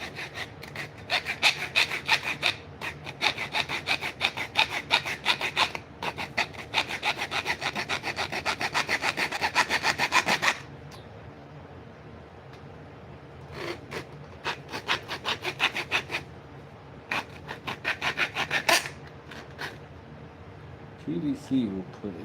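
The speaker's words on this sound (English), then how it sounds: "PVC will put a workout on your blade." A hand saw cuts through PVC in fast, steady rasping strokes, then pauses and resumes in shorter, irregular bursts, close and loud with no talk over it.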